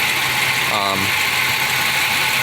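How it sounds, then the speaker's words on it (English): The engine of a 1990 Pontiac Bonneville idles steadily with the hood open, a moderate, even hum filling the whole moment while someone talks over it. "So, not a particularly loud engine, but not also the super quietest"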